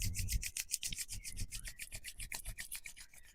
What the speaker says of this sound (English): And then once again, rub your palms together.